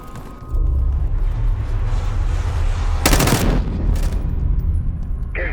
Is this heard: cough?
no